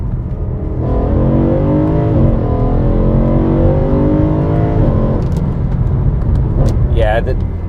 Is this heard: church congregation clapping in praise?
no